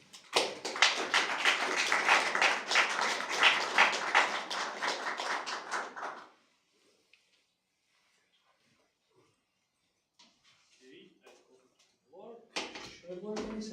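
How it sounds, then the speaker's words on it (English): An audience at a DevOps talk applauds the speaker Ibrahim, a dense burst of clapping that lasts about six seconds. Quiet follows, then a few sparse sounds and a voice begins speaking. "a round of applause for Ibrahim"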